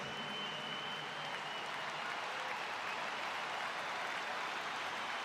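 A large crowd at a memorial service applauding in a big venue, a dense, steady wash of clapping that holds at an even level throughout, somewhat distant, with no clear voices above it.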